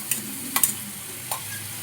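Food frying in a pan with a low, steady sizzle, broken by a few sharp clicks of a utensil against the pan, close by and fairly quiet, with no speech.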